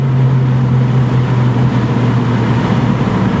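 A 1965 Ford Mustang's 289 V8 hums low and even while cruising on a highway, a constant engine drone wrapped in road and wind rush, with no talking.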